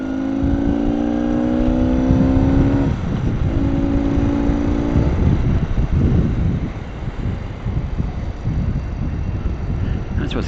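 Vintage BMW R80/7 motorcycle engine drops in pitch after a downshift and then pulls steadily beneath loud, continuous wind buffeting on a twisting mountain road.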